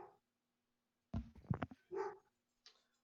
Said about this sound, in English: Whose doggo is barking?